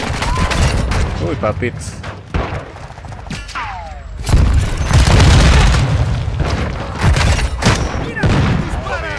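Gunfire and explosive booms from the video game Call of Duty: Modern Warfare II, with dense bursts of shots and heavy thumps, loud and close, under excited shouting from a player.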